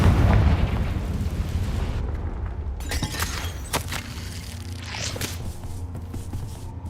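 A Confringo fire spell from Hogwarts Legacy bursts with a loud, booming explosion at the start, followed by crackling blasts and rumbling debris as the sound slowly fades, with no talking.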